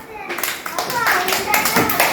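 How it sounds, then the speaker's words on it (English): Children in an English class clap for a classmate, brisk close clapping from a small group rising after a brief start, with a voice and talking mixed in. "give a big round of applause for Zara"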